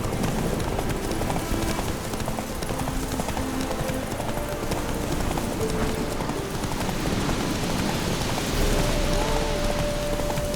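Horse hooves gallop steadily in The Witcher 3, a fast continuous clip-clop with a rain-like wash over it and a brief whinny near the end, sounding close and fairly loud with no talking.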